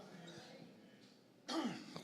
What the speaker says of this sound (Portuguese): Estou tossindo, mas é rinite